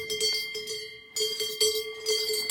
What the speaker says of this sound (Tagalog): Yung mga baka dito, ano, no? Mukhang suwiso din. May bell.